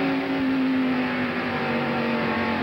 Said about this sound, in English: You can hear that Terry Labonte was not getting fully back in the gas when he decelerated